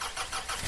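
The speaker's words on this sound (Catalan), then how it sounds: "Encengui el motor." A driving-school car's engine turns over and catches in a brief, steady burst of mid-pitched mechanical rumble.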